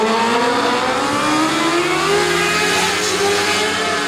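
Race cars at Gulf Coast Speedway roaring into turn 1 at a green flag start, a loud dense pack of engines with rising revving pitch sweeps, continuous and close.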